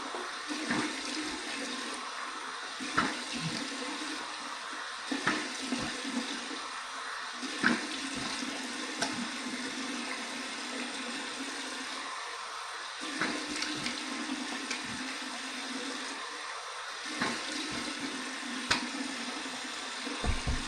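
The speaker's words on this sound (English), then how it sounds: "All right, cold water rinse." Cold tap water runs steadily into a sink during a rinse after shaving, with repeated splashes and drips standing out over the flow, close and continuous with no talking.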